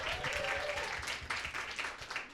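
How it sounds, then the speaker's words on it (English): Audience applause for a panelist at a community economy panel event, a dense, steady wash of clapping from a crowd that carries on for a couple of seconds at moderate distance. "Please give her a round of applause."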